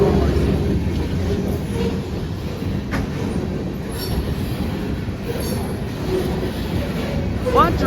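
A long CSX freight train of about 119 cars rolls past on a cold, very windy day, with a steady loud rumble and clatter of wheels, occasional squeals of metal, and some talk mixed in.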